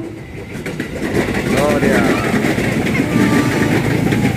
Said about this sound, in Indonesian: Nah, itu ada kereta KRL.